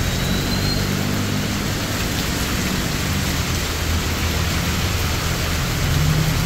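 Heavy rain pours down during a strong thunderstorm in Usulután, El Salvador, a dense, steady roar of drops hitting surfaces that holds at a constant loud level throughout with no voices.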